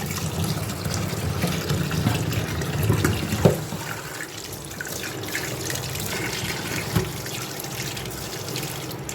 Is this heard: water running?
yes